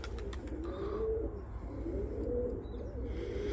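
Pigeons belonging to a Turkish pigeon fancier coo in low, rolling, repeated phrases close by, with a few faint chirps and wing sounds over a steady low background rumble.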